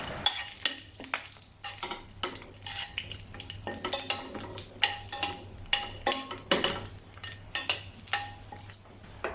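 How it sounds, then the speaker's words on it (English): Whole cardamom, bay leaves and cinnamon bark crackle and sizzle in hot oil for a lamb curry, with a steady close frying hiss, scattered pops and a few stirring clinks against the pan, no talking. "Add the dry whole spices, cardamom, bay leaves,"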